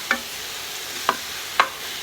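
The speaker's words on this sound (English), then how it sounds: "we're going to mix these up a little bit before we start putting the other flavors and seasonings on" Brussels sprouts being tossed with Montreal steak seasoning and garlic powder in a bowl or pan, three sharp scraping clinks spaced about half a second to a second apart over faint background hiss.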